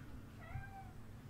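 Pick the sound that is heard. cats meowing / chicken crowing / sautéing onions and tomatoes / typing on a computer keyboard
cats meowing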